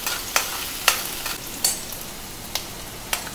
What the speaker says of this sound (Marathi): जिऱ्यानंतर थोडा कांदा एक कांदा छोटासा कापलेला तिथून घ्यायचं आहे मऊ करायचा आहे कांदा